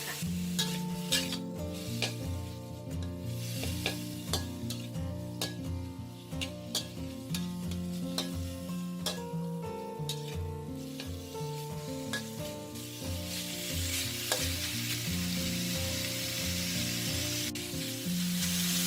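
Chopped fermented fish fries over low heat in a pan, rendering out its oil: a steady, close sizzle with frequent spatula stirring, scraping and light clinks against the pan throughout, no voices.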